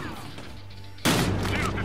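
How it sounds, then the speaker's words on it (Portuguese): Gunfire erupts in the police shooter game Battlefield Hardline, a sudden loud burst of shots that continues as a sustained barrage after a quieter opening. "Tiro disparado, tiro disparado!"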